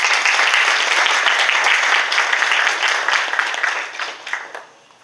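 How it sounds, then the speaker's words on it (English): An audience at a university graduation ceremony for the College of Commerce applauds, dense clapping that is strongest early, then thins out into scattered claps and fades to near silence. "Please give her an applause."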